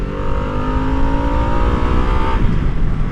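A 2022 Harley-Davidson Nightster engine revs hard in second gear while riding at speed, a loud, sustained climbing drone with rising harmonic whine and no voices.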